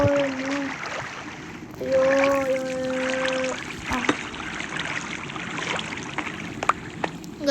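Steady flowing water in the video game Minecraft: a continuous soft rushing hiss throughout, with a few brief tonal notes over it early on.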